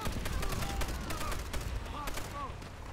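A machine gun tower firing in the World at War video game, rapid bursts of gunfire crackling at a distance across the scene, with other shots mixed in and voices faintly present.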